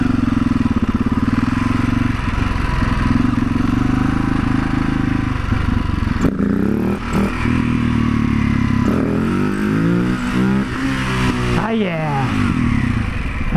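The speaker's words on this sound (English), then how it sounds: "So we'll do a quick wheelie test." A supermoto motorcycle engine revs hard and close during a wheelie test, its pitch climbing and dropping in repeated surges over a steady rumbling idle.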